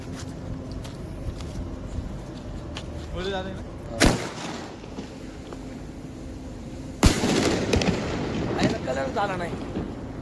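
Two firecrackers burst with sharp, loud cracks a few seconds apart, heard under ongoing chatter and a background engine hum, the second crack followed by a rough crackling tail.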